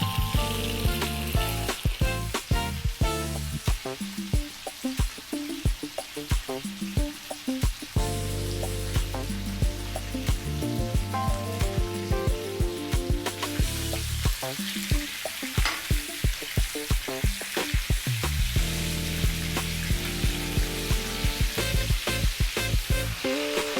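Beef sears in a hot pan with a loud, steady sizzle and frying crackle throughout, punctuated by stirring and scraping bursts, close and unbroken, with no talk.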